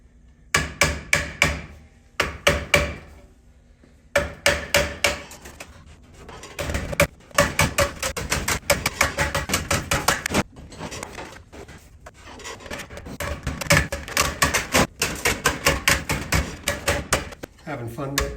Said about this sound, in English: A lot of hammering.